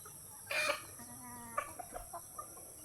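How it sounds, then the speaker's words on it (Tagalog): On a native chicken farm, a hen gives a few soft clucks and short throaty calls close by, spaced out over a quiet background with no talk. "Hello, mommy chicken."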